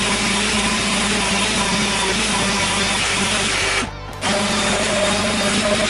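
A power sander working wooden farm table X legs with 120 grit sandpaper, a loud steady whirring drone that runs continuously, with one brief pause near the end before it resumes.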